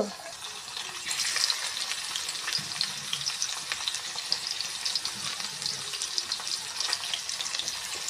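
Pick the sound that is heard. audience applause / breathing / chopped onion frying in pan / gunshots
chopped onion frying in pan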